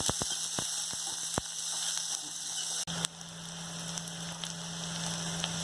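Onions sizzling and frying in a pan for a moth bean stir-fry, a steady close crackle with a few sharp clicks and a utensil knock partway through, no talking.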